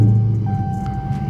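Dodge Charger Redeye engine starting up, a loud low rumble at the start that settles into a steady idle with a faint whine running over it.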